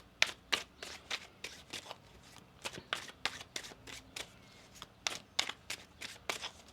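Tarot cards being shuffled by hand close up, a series of crisp riffling bursts in a quick, uneven rhythm.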